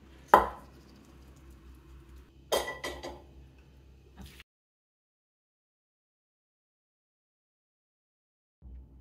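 Okra pieces pounded in a stone grinder, several heavy thuds with short gritty crunching after each, then silence before a faint knock at the end.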